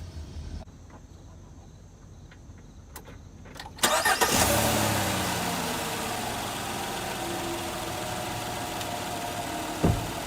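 A truck engine, jump-started with a portable lithium jump starter, cranks and catches abruptly after a quiet stretch, then settles into a steady, loud idle close by with a brief bump near the end.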